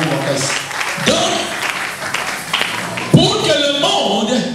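A church congregation at a Sunday worship service applauds, a dense, steady wash of clapping filling the space, with voices and singing rising over it in bursts throughout.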